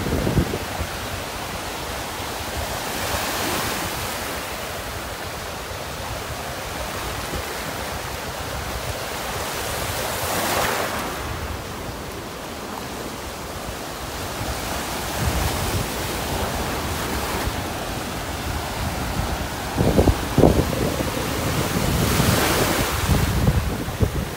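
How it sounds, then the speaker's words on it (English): Strong wind buffeting the microphone over rolling surf at a North Naples, Florida beach point, a loud continuous roar with waves swelling and breaking every few seconds. "Wind is pretty strong right here"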